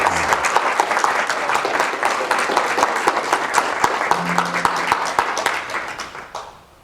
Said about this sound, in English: I just want everybody to give Simon and also Donna a big round of applause